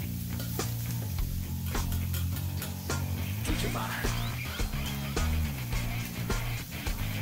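Onion and garlic frying in a pan for chicken encebollado, a steady close sizzle with repeated stirring scrapes and clatter throughout, no talking.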